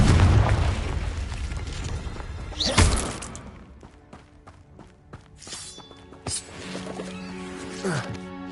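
Confringo fire spells from Hogwarts Legacy burst in booming blasts amid a busy battle with footsteps and scattered impacts, one heavy explosion standing out early and smaller pops following.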